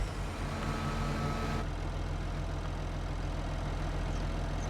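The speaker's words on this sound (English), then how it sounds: "Same Virtus 135 RV shift. I've never used a same tractor." A Same Virtus 135 RV Shift tractor engine in Farming Simulator 25 idles with a steady, loud low rumble that holds throughout and carries no talk.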